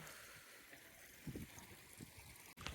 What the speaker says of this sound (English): can you hear the sound of this water?